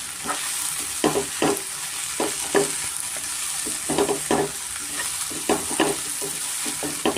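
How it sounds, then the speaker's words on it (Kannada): Mushrooms fry in a pan for a spicy pepper curry, with a constant close sizzle broken by regular scraping stirs of a spatula against the pan. "ಇವಾಗ ನಾನು ಮಶ್ರೂಮು ಸೇರಿಸ್ಕೊತಾ ಇದ್ದೀನಿ ಅದನ್ನು ಅಷ್ಟೇ ಸ್ವಲ್ಪ ನಾವು ಚೆನ್ನಾಗಿ ಫ್ರೈ ಮಾಡ್ಕೋಬೇಕಾಗುತ್ತೆ"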